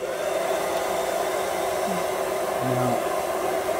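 A Remington hair dryer runs on its high heat setting with a steady, even blowing roar throughout and no talking.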